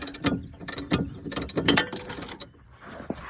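Ratchet wrench turning out a ball joint bolt on a 2008 Ford Focus, a close series of rapid clicking bursts in irregular strokes, loud and alone with no talk.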